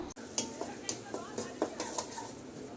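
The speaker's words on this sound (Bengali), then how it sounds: "তেলটা গরম হয়ে গেছে এরপর যে আমি পেঁয়াজ আর রসুন দিয়ে দিচ্ছি" Onion and garlic tempering in hot oil for sour dal with mango sizzles softly while a utensil stirs and taps against the pan in a quick series of light strokes.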